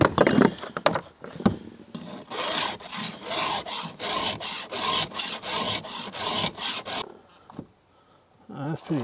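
A hand file rasps across the edge of a dull cutting tool at an off-grid cabin, with about a dozen rhythmic, close strokes, scattered handling clicks before and a short quiet stretch after.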